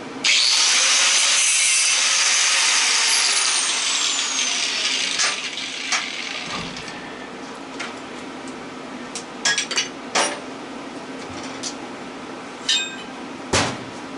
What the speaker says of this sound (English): Okay, I'll take a grinder to that.